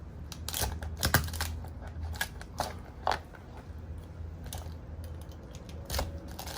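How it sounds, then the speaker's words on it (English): A knife cuts and pokes through a lobster shell to halve it for braised butter lobster, giving faint, close crunches and cracks in irregular bursts over a low background hum, with no voices. "I want to cut this in half. So I'm going to use my knife to poke it."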